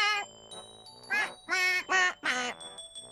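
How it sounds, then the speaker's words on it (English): A cartoon duck quacks in a series of loud, close, nasal calls, with several quick bursts in a row, alongside faint chiming tones. "that sounded like a quack, quack"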